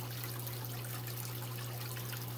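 Gentle water trickles steadily from a waterfall feature in a home aquarium tank, a constant soft splashing wash with a low steady hum beneath it, no voices.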